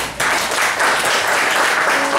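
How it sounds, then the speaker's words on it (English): An audience at a live concert breaks into a round of applause, a dense, sustained crowd clapping that swells quickly after a brief pause and stays loud throughout. "Please give a round of applause to yourself."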